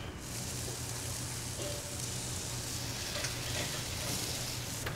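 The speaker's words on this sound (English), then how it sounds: "we'll come into the grill now. On the grill. Yeah, you get that sizzle." Bison slider patties sizzle steadily on a hot grill, a dense, continuous frying hiss that holds close and loud throughout with no talk over it.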